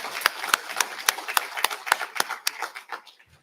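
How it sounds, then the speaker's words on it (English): Applause at a volunteer awards ceremony, heard as a run of sharp, evenly spaced claps, close and fairly loud, that thins out and fades after about three seconds. "give them a good round of applause"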